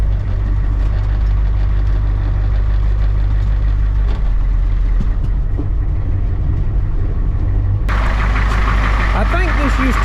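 An old box truck, apparently a former U-Haul, idles and runs with a rough rumbling engine throughout, loud and close, and a sharper burst of mechanical noise toward the end.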